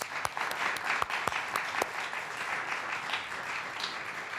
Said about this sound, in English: Would you please give a round of applause to all of these great 6th grade spellers?